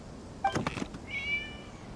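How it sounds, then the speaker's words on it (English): A cat meows twice in quick succession, a short cry followed by a longer, higher drawn-out meow, over faint background hiss. "It was just a cat."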